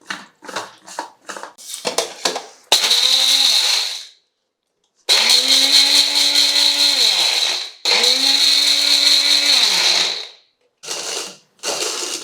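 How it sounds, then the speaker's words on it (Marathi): A kitchen mixer grinder whirs in several loud, close bursts while grinding ingredients into powder for a Ganesh Chaturthi sweet. Short pulses come first, then longer sustained runs with spin-up and wind-down, and brief silences fall between them. "आता मिक्सिन तू पुडी करूया"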